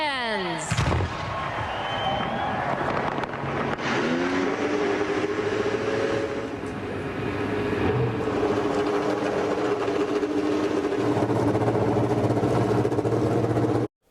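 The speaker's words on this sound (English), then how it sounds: "Ladies and gentlemen, drivers all, start your engines." IndyCar race car engines fire up at Kansas, a loud dense roar of many engines starting together and then holding a steady close idle drone that continues for over ten seconds.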